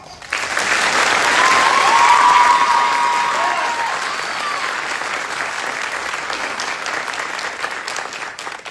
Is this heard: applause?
yes